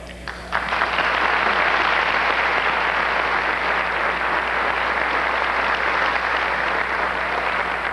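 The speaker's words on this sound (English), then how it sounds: "give a round of applause" Audience at a 1995 pageant on-stage interview bursts into loud, sustained applause after a brief quiet moment, the clapping continuing evenly to the end.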